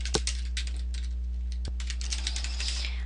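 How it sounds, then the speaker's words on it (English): Steady typing on a computer keyboard, close and clear, with quick irregular key clicks and one or two sharper taps over a low constant hum. "I'm just going to type a little bit of content on here."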